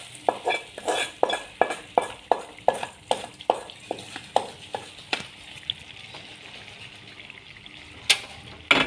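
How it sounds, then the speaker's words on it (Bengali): Hot tempering oil is poured into meat for a Chittagong-style kala bhuna and then stirred, giving a run of regular scraping strokes of a spoon against the pot with a faint sizzle, followed by a few scattered knocks. "এখানে এবার বাগারটা আমি এখানে ঢেলে দেবো"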